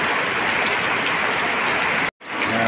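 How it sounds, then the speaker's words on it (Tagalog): Heavy rain pours steadily beside a house, a dense continuous hiss that briefly cuts out near the end before resuming. "lakas na ang ulan dito."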